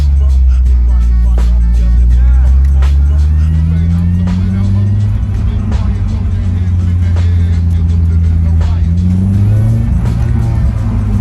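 Honda S2000 (AP1) engine revving in second gear as the driver accelerates, loud and close from inside the car, pitch climbing and dropping through several rises under a steady roar.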